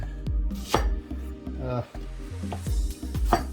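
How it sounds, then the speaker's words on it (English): A knife chops onions on a cutting board in a home kitchen, with sharp, loud, close knocks coming in an uneven rhythm of roughly ten strokes and a steady low hum underneath. "So we're going to slice up or cut up some onions."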